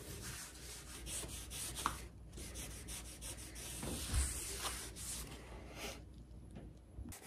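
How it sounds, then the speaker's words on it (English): Stained butcher block rubbed with 300 grit sandpaper, a soft, steady, close scratching that runs in continuous back-and-forth strokes with brief pauses. "I would go back in with 300 grit sandpaper, sand down a light finish on it"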